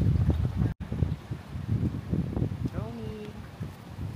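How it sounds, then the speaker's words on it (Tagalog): Gusty wind buffeting the microphone with low rumbling bursts, mixed with faint background voices and a brief dropout, outdoors at Calatagan. "Ang lakas ng hangin."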